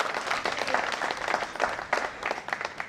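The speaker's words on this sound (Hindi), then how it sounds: "एक बार तालियां बजाओ मेरे लिए" An audience at a poetry gathering bursts into dense, continuous applause, many hands clapping at once in a full, steady wash of sound that stays loud throughout.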